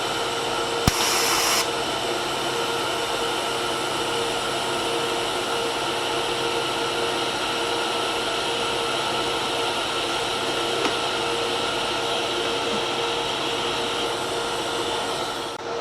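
R Tech TIG 160FPP welder running a straight DC TIG weld at 80 amps with full pedal, giving a steady, even broadband hiss and hum that holds for the whole stretch, with a brief brighter burst near the start.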